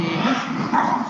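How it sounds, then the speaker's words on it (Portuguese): Dogs barking and growling nervously nearby, a steady agitated mix of yips and low growls running through the whole short stretch without pause. "Aí, os cachorros ficaram nervosos aqui."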